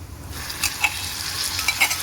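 Crushed green chilli thecha hitting a hot pan, a brief crackling sizzle with a few sharp spits and stirring scrapes, close and fairly loud with no talk.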